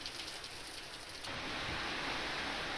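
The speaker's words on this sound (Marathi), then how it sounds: "नऊ तालुक्यांमध्ये सध्या मुसळधार पाऊस बरसतोय" Heavy monsoon downpour in Maharashtra, a steady dense hiss of rain that grows louder and fuller about halfway through, with no voices.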